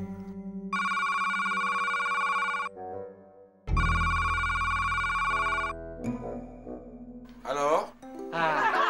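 A telephone ringtone plays in long melodic bursts, loud and close, two phrases separated by a short gap, followed by talk in a comedy sketch scene.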